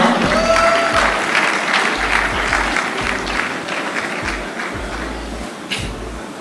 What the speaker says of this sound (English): A round of applause to Pharmacy Africa.